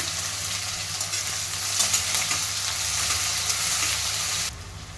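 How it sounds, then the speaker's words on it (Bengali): Chopped onion frying in hot oil with dried red chillies, bay leaves and whole spices for a rohu fish curry gives a steady, loud, close sizzle that cuts off abruptly near the end. "পেঁয়াজটা কিন্তু ভাজা ভাজা হয়ে গেছে"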